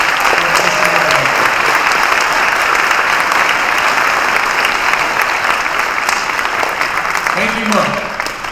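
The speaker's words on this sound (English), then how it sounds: "let's give one huge round of applause for Mr. Merkin." Audience applause fills a hall at a high school hall of fame induction ceremony, steady dense clapping held for several seconds with a voice briefly heard over it, then tapering slightly at the end.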